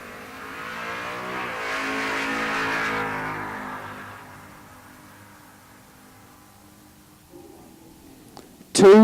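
A Camaro drag car launches at a bracket race at the Texas Motorplex, its engine roaring loud and rising in pitch as it pulls away, then fading into the distance before a sharp, loud noise at the very end.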